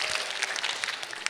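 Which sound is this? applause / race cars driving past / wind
applause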